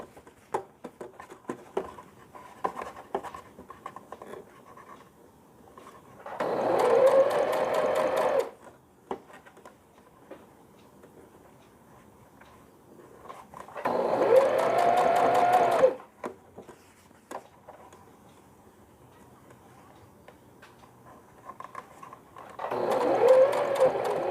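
Sewing machine stitching piping on a summer smocking frock, running in three loud, steady bursts of a few seconds each, separated by quieter handling and fabric rustle.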